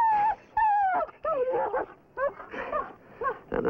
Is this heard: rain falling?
no